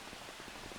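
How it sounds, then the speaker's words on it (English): Rain falling in Farming Simulator 25, a brief, dense and steady hiss of drops on surfaces with no other sounds. "It is still raining."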